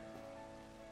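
Steady rain falls throughout a stretch of Pokemon Scarlet and Violet, a dense wash of pattering noise over faint tonal game sounds, with no voices.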